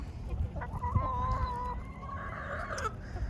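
Backyard chickens of Americana and Brahma breeds cluck and call close by, a short run of squawking notes with a low rumble of background noise and no talking.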